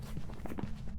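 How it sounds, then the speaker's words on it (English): Quick, soft footsteps from a character in Phasmophobia, a rapid run of muffled thuds over a steady low room hum, close and evenly paced for about a second. "Still the same footstep sounds."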